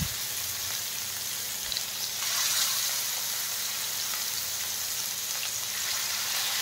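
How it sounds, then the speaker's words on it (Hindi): Fish pieces fry in hot oil, giving a dense, continuous sizzle that swells slightly partway through, close and steady with no talking. "एबे हमें माछ को गोटे गोटे करी पकेइबा।"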